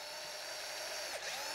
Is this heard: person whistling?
no